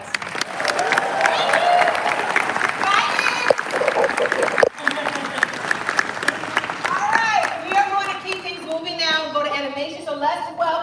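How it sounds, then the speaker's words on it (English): Crowd applause at a LEGO Star Wars panel, loud sustained clapping with scattered cheers for about seven seconds, then fading as a voice begins talking over the last few seconds. "give a big round of applause for these guys"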